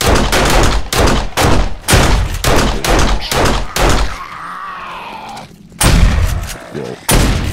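Gunfire from the zombie survival game 7 Days to Die: a rapid sequence of loud, punchy shots in close bursts, a short lull with faint background sound, then more shots at the end.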